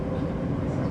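Crossrail Elizabeth line mainline train running through a tunnel, a steady low rumble of wheels and motors heard from inside the carriage, continuous and fairly loud.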